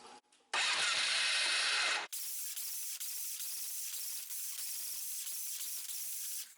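A Magnum engine overfilled with oil cranks over, a loud steady spraying, hissing churn running continuously after a brief harsher burst at the start, close by with no talking.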